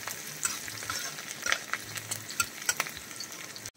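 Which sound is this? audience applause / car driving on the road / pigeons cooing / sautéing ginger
sautéing ginger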